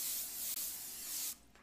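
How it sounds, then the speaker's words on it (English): Pam non-stick cooking spray hisses onto a pan in a home kitchen: one short, steady burst lasting just over a second, near and fairly loud, then cut off. "and just hit it with a little quick Pam shot."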